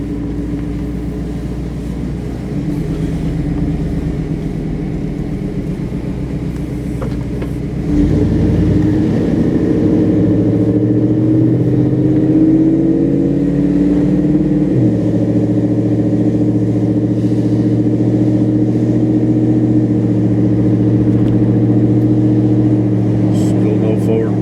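A truck engine revs up and accelerates in drive, a steady mid-range rumble that swells louder partway through and shifts pitch as it pulls forward, heard close up.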